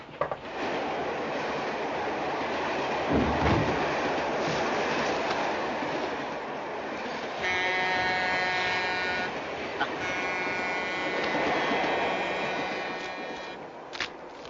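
A train rumbles along the rails with a continuous roar and rhythmic clatter, a horn-like tone sounding midway, and some voices faintly underneath.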